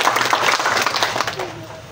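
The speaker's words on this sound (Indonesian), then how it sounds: "kita tepuk tangan dulu buat Sentra Evata" Applause from an audience at the launch event of Bulan Bakti Karang Taruna in NTT, a dense wash of clapping that fades out over about two seconds, with faint voices mixed in.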